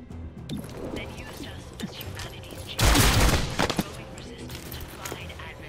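A shotgun blast rings out in the tactical game XCOM Chimera Squad, a loud, sharp burst with a decaying tail, set among quieter game clicks and ambience.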